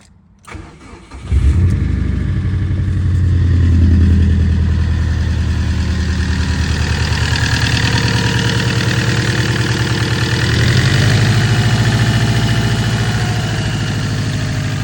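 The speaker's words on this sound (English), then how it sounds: "So here goes the first start ever on this new engine." A freshly installed engine in a Hawkeye wagon cranks and fires for the first time, catching after about a second, then settles into a loud, close, steady idle with a slight rise in revs near the end.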